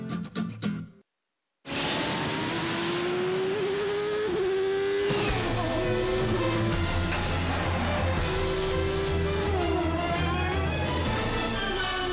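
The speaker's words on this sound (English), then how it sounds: "the only whine you're going to hear is going to come from 600-plus horsepower engines as we get ready to go racing" IndyCar engines of more than 600 horsepower roar at Infineon Raceway in the Sonoma Valley during the 2008 Grand Prix of Sonoma, high-pitched whines rising and falling as cars accelerate and pass, loud and continuous after a brief silent gap near the start.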